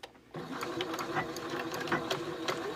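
A sewing machine stitches a zipper pouch with a waterproof lining, a quiet rhythmic needle chatter beginning after a brief silence and continuing steadily, close by.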